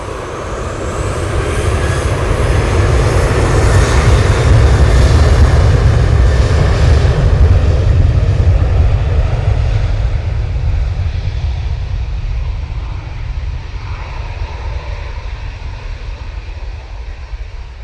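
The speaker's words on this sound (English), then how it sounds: "So off to Oslo they go with this 737-800." A Ryanair Boeing 737-800 jet departs Manchester Airport for Oslo with a loud, broad roar that builds steadily, holds strongly at close range, then slowly fades as it climbs away.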